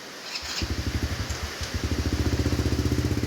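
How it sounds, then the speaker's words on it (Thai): A vehicle is started and taken out on a rainy day before a trip to the market in Laos; its engine ticks over in a rapid, steady pulsing idle close by, pausing briefly before resuming. "เอารถออกนะเตรียมไปแล้ว"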